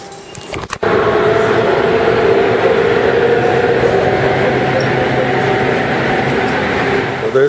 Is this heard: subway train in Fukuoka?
yes